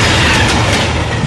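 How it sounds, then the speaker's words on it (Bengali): A train engine sound effect in a radio drama surges in as a loud, continuous rail rumble with a faint clatter, heard alone and close for a moment. "একখানা ইঞ্জিন হুড়মুড় করে একেবারে তার দেহের উপরে এসে পড়ল।"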